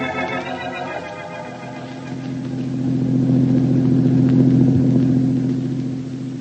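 Car engine in a 1946 radio drama, a mid-pitched motor humming that swells louder as the car pulls away, then eases off, heard alone without voices.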